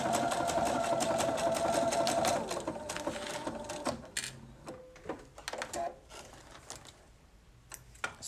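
Sewing machine stitching fabric strips with a reinforcing fix function at the start: a steady, loud mechanical whir for a couple of seconds, then stopping, followed by intermittent clicks and handling of the machine up close.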